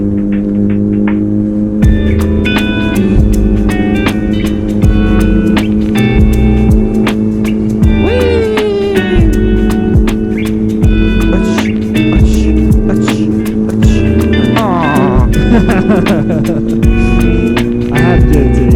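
A 2007 Yamaha R1 four-cylinder sport bike ridden at night hums steadily at close range, its engine note shifting with throttle and a few whining pitch sweeps. Riders talk faintly beneath the engine.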